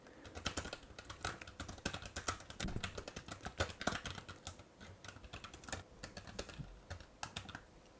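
Typing on the keyboard of a Sony VAIO P VPCP115KK mini laptop, about eleven years old: a quiet, steady stream of soft, close key clicks with no talking.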